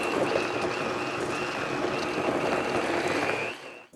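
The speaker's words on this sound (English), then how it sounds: "Now we blend it." A blender purees salsa ingredients with chicken bouillon and a little water, a dense, loud, steady whirring roar running for about three and a half seconds before cutting off.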